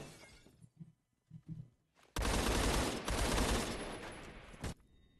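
Loud, sustained burst of automatic fire from an RPK machine gun in the video game Phantom Forces, lasting about two and a half seconds after a quiet stretch with a few faint thumps.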